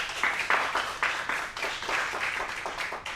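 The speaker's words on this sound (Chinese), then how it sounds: "让我们用最热烈的掌声欢迎许总裁" Applause from a press-conference audience at a new game launch, welcoming the company president: a short burst of dense clapping that swells and eases in waves, with no talking over it.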